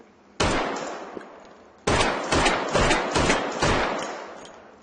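Gunshots from elemental guns in a video game: a single sharp shot rings out, then after a pause a quick string of four or five loud, reverberant blasts, each decaying into a metallic tail.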